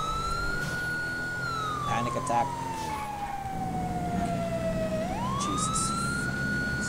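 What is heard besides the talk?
police siren in the video game GTA V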